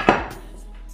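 A single sharp metallic clank as a 24 cm frying pan is picked up and handled in a home kitchen, followed by a brief ringing decay, close and fairly quiet.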